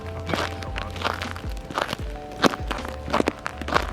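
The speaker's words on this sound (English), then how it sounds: "You can hear it cracking under there." Footsteps crunching over icy snow in a wooded neighborhood during a snowstorm, a steady walking rhythm of crisp cracks and crunches, close to the listener.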